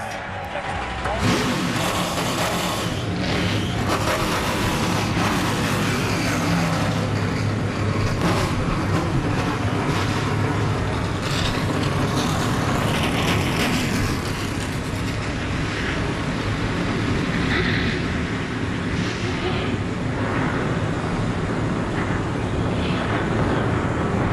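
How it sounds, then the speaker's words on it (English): ARCA race car engines roar at Talladega, Alabama, a dense, loud, continuous field of rumbling and revving that holds steady throughout, with no clear pauses. "Gentlemen, start your engine!"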